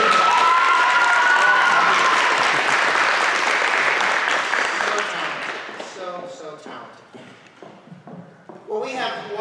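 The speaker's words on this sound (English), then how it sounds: "Jazz band, let's give Katie Grobitz another round of applause." A Christmas concert audience applauds and cheers loudly and densely, with a few whoops, for a jazz band. The applause fades after about five seconds into scattered claps and chatter, and someone begins speaking near the end.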